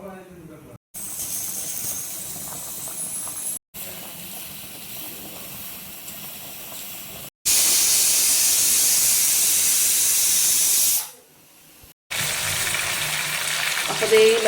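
Pressure cooker steam hissing in bursts while tomato and dried red chillies cook, a loud broad hiss cutting in and out between brief silences, strongest near the middle.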